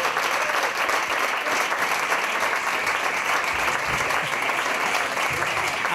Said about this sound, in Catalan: un fort aplaudiment, si plau, pel presentador